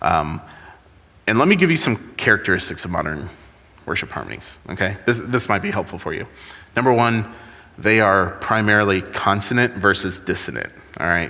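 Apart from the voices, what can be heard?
None of the usual background noises is heard.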